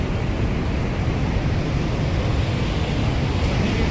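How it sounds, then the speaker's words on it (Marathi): A loud, continuous roar of rushing water fills the whole clip, broad and steady like a powerful waterfall nearby. "माझ्या पाठीमागे बघत आहात हे आपण धुवाधार धबधबे"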